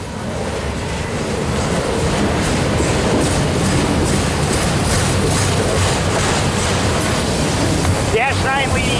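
Eastbound BNSF freight train led by two Dash 9 locomotives rolling past, a loud continuous rumble with clickety-clack of wheels over rail joints and a brief squeal near the end.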